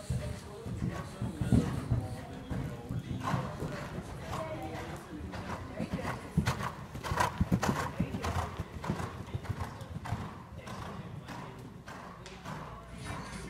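A big showjumping mare is ridden, her hooves clip-clopping in a steady, rhythmic gait with soft thuds, moderately close, while someone talks over the hoofbeats.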